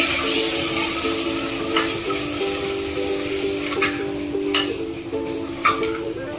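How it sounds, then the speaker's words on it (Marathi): Sprouted moth beans (matki) are stirred in a frying pan for a spicy usal, giving a continuous sizzle under a steady hum, with soft scraping strokes recurring every second or so. "मटकी व्यवस्थित मिक्स करून घ्यायची"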